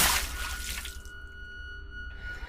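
Cartoon water splash as three characters wade into a pond: a bright broadband splash bursts up at once, then settles into a thinner, watery shimmer with a faint tone ringing underneath.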